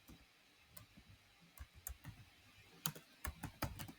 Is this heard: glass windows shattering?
no